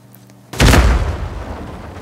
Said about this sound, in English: Dynamites and conspicuously placed crates. Sam, you are going to get exploded.